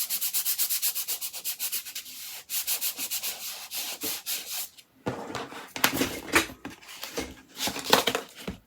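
Foam board pressed and rubbed down by hand onto a surface, producing rhythmic scratchy brushing strokes, close and fairly loud, then rougher irregular rubbing in the second half.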